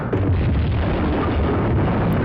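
A loud, sustained explosion rumbles through the Tomb Raider 2 level 40 Fathoms, blowing open a trapdoor. The heavy, broadband roar fills the whole moment with no voice over it.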